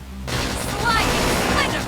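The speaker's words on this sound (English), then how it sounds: "Flame grenade!" A flame grenade detonates in the Xenoblade Chronicles X sci-fi action game: a sudden broadband blast kicks in after a brief lull and roars on as a sustained, loud burst, with game effects layered over it.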